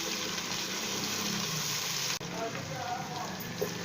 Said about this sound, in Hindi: 1 मिनट हो चुका है इसको फ्राई करते हुए।